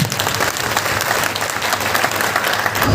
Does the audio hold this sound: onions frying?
no